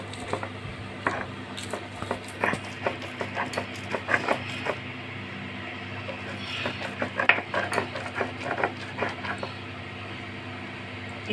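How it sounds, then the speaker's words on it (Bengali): Soaked masoor lentils and garlic cloves being ground by hand into a paste on a grinding stone, a steady run of rhythmic scraping and knocking strokes at moderate loudness over a low hum. "রসুনটা দিয়ে আমি ভালো করে বেটে নিচ্ছি।"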